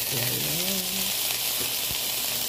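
Steady, loud sizzling of chicken wings frying in hot oil in a pan fills the clip, with a brief faint voice-like tone early on.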